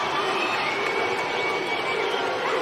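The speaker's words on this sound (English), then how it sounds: "the fans are cheering for Papua New Guinea here tonight" Football fans cheer for Papua New Guinea in the stands at the OFC Nations Cup 2022 final against Fiji, a steady, loud crowd roar with mixed shouting that holds without a break throughout.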